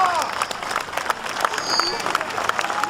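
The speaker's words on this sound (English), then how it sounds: "round of applause for a magnificent set of colours" Outdoor crowd applauding a newly painted set of regimental colours at an English Civil War re-enactment in Bradford on Avon, a short dense burst of clapping with some voices mixed in.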